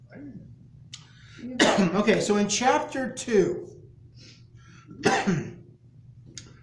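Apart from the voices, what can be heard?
coughing and throat clearing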